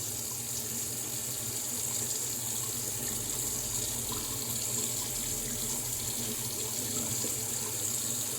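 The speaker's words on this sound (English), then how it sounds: "I just add water to the surface of the brush, like dripping it on" Water runs steadily onto a shaving brush during wet shaving with Seaforth Sea Spice Lime soap, a constant close trickling hiss with no breaks.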